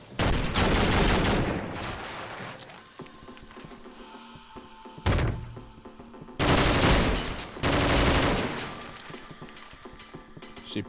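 Video game gunfire in a bloody manor setting: several loud bursts of automatic machine-gun fire, rattling volleys separated by quieter stretches, one short single burst in the middle.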